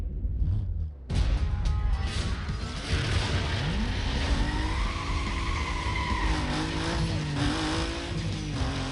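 A Mitsubishi Eclipse race car in Need for Speed: Most Wanted skids hard after a sudden loud start, its tires squealing in long wavering tones over a continuous engine roar.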